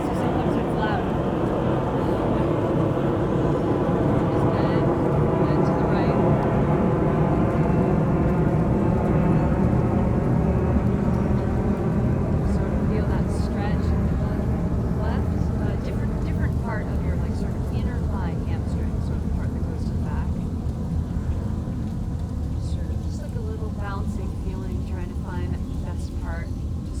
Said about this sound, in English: There's a plane going by, so sometimes it's loud.